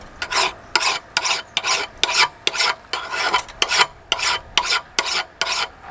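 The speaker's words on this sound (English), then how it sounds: "I think we can swap to a fine cut file now." A fine cut file rasps along an axe edge in about fourteen regular strokes, each a crisp scraping burst with a short gap between, close and fairly loud, no talking.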